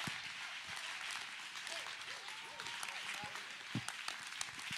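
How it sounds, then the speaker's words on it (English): Church congregation applauding, a dense wash of hand clapping at moderate distance with a voice speaking over it now and then. "Church, clap your hands right there."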